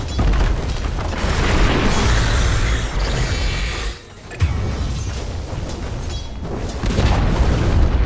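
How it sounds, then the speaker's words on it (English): Heavy booms and crumbling blasts sound as the Dire middle tower falls in Dota 2. The roar runs loud and continuous, drops out briefly in the middle, then resumes with further rumbling impacts, without speech. "Dire's middle tower has fallen."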